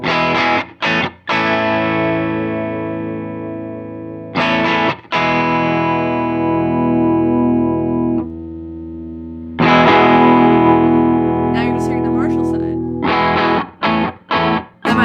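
Distorted electric guitar chords ring out through a crunchy Vox amp simulation on a Walrus Audio ACS1, struck in bursts with sustained notes and brief gaps between them.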